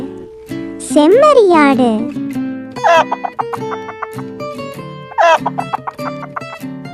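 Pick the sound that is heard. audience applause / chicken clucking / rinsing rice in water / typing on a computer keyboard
chicken clucking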